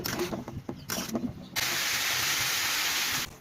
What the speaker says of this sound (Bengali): এবার দিয়ে ভালো করে নাড়াচাড়া করে নেব।